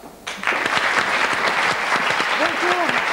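Studio audience applauding on a French television game show, a dense burst of clapping that swells in suddenly and holds loud and steady, with a voice speaking over it near the end.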